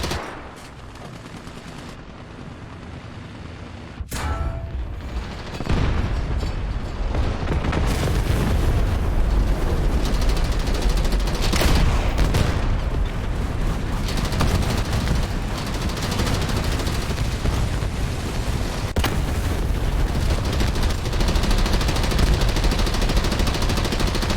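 Ju 87 G Stuka in a video game simulation event making gun runs, with loud, dense cannon and gunfire mixed with booming explosions, a continuous heavy roar of combat for over twenty seconds.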